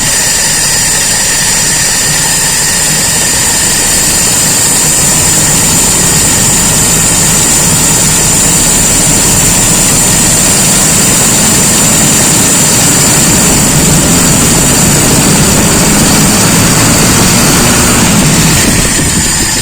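Loud, steady drone of a Toyota Kijang engine running during a carburetor test, constant idle-like roar heard close and alone with no voices.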